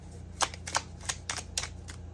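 A deck of tarot cards being shuffled by hand, with six or so short, crisp riffling bursts at a steady rhythm, close and fairly quiet over a low background hum.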